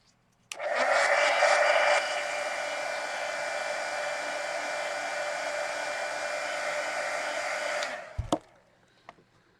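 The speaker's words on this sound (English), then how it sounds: "Let me hit this with the heat gun." A heat gun blows hot air over a mixed media fantasy artwork, a steady loud whooshing roar that starts abruptly, runs for about seven seconds and cuts off with a click and brief handling noise.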